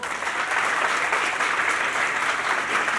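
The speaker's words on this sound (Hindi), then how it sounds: "पहले तो उनके लिए जोरदार ताली." Loud, dense crowd applause fills a song launch event, steady and continuous throughout with no breaks.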